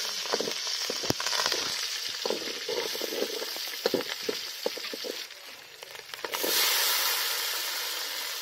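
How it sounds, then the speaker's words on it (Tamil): Curry leaves and chillies sizzle and crackle as they are sautéed in hot oil in a pan for chicken gravy, with steady close frying hiss, scattered pops and stirring clatter, and a louder surge of sizzling near the end. "இப்ப வதக்கலாம்."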